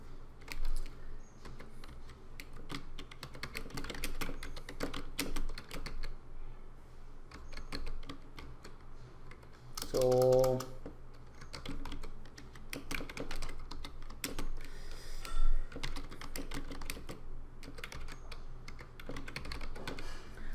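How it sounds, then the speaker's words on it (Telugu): Computer keyboard keys are tapped in irregular bursts of quick clicks with short pauses, close but fairly quiet, over a faint background hum and no talk. "సో ఇప్పుడు మన ఓన్ టెక్స్ట్ టైప్ చేద్దాం. బ్యాక్ స్పేస్ కొట్టండి."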